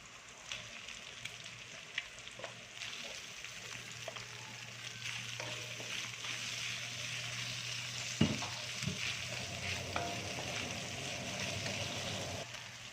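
Pancit bihon fries and sizzles steadily in a frying pan while being stirred, with occasional utensil scrapes and clacks against the pan over the constant hiss.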